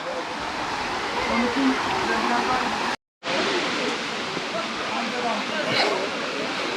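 Small waterfall in a canyon at Tatlıca in Erfelek, Sinop, giving a steady, broadband rush of falling water that fills the whole stretch, with one very brief gap of silence partway through.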